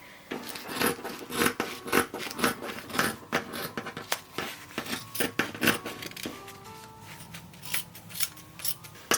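Scissors cutting fabric for a child's 1910s summer dress, a run of crisp repeated snips and slicing strokes at an uneven pace, close up and with no talking.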